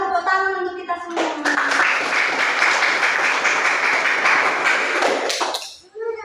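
Applause breaks out in a classroom of students, a dense burst of clapping lasting about four seconds, preceded by a spoken voice and a short tonal sound, then fading quickly.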